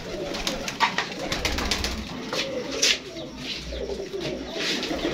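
A pet pigeon kept with its young chick coos in soft, repeated low throaty phrases, close and steady throughout, with faint chirps and light rustling around it.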